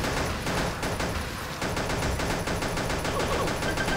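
Rapid continuous gunfire from a four-barrel gun in the Pixel Gun mobile shooter game, a dense, loud stream of shots that runs the whole time with barely a break, with no talk over it.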